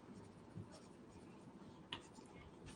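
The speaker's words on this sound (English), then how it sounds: "I'm going to write it down." A pen scratches steadily across paper while a short note is written, soft and close, with a faint tap near the end.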